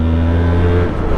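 A Yamaha motorcycle being ridden gives a steady, loud engine drone close by with a smooth humming tone throughout the short stretch.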